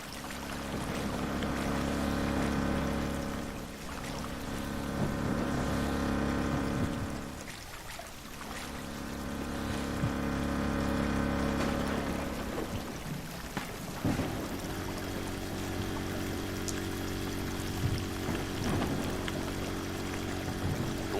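Powerful water pumps drain a flooded cafe in a video game, producing a steady, loud low rumble and rushing churn that briefly drops out and then resumes, with no voices.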